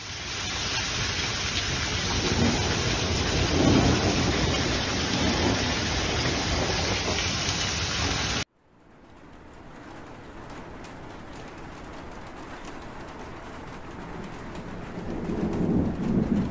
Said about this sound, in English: A summer hailstorm swept through Colorado, flooding streets and creating hail rivers